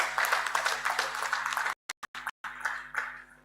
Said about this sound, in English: Let's give a thunderous hand clap to our panel.